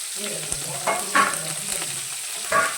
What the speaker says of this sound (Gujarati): ધાણી નાખ્યું જીરું નાખ્યું મરચાં નાખ્યો વઘાર માટે